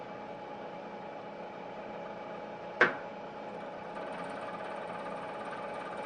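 A metal milling machine's power feed runs during a light finishing pass of about two thousandths of an inch, giving a steady low mechanical whir with a single sharp click near the middle.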